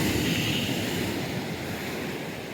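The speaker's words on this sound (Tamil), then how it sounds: "சங்குத்துறை கடல் கொஞ்சம் சீற்றமாக தான் இருந்த மாதிரி" Rough sea at Sanguthurai beach in Kanyakumari, with a steady broadband roar of surf mixed with wind rush on the microphone, continuous and moderately loud with no distinct breaks.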